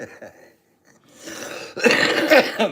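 A person coughs a few times in quick, harsh bursts, close up, after a brief quiet pause.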